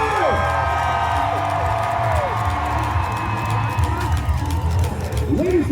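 A crowd at the Glengarry Renaissance fair cheers and whoops loudly during a jousting match, with shouting voices, scattered clapping and excited children's cries sustained throughout.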